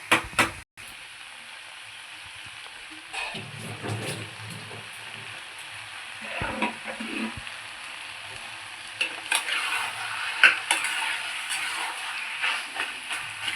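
Poppy seed paste and onion stirred in a hot pan without water, a steady low sizzle broken by scraping spoon strokes, close and fairly quiet, with no voices.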